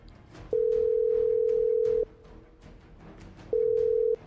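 Ringback tone of a phone call being placed, two long steady electronic tones separated by a gap of silence, loud and close, with faint room noise between them.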